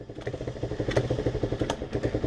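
A Romet K 125 motorcycle engine runs with a rapid, steady pulsing beat as the throttle is worked, close and fairly loud, with brief revs rising over the idle chatter and no talking.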